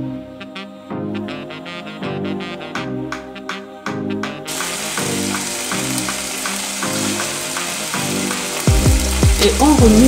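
Smoked fish and vegetables are stirred gently in a pan. A loud, steady sizzle of frying builds and fills the sound, with scraping of the spoon against the pan.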